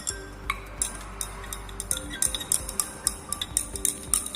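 A spoon stirs turmeric solution in a glass, giving rapid, light clinks and ticks against the glass that grow busier toward the end, close and with no speech.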